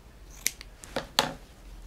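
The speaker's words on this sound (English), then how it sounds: "then we'll cut a little piece of our ribbon" Scissors cut a small piece of ribbon, producing three or four crisp, quiet snips close by, spaced irregularly in a quiet room.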